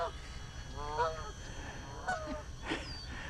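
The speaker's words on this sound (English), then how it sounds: "Here comes some geese." Geese honk repeatedly while flying past a small Arducopter drone outdoors, a few distinct calls at moderate distance over steady background noise.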